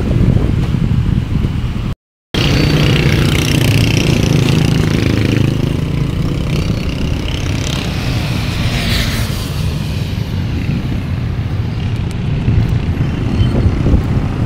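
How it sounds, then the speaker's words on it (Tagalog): Large trucks roll past on a road at dawn in a dense queue, a steady loud engine drone and rumble throughout with a brief dropout near the start. "Ang lalaki ng mga truck dito na dumadaan."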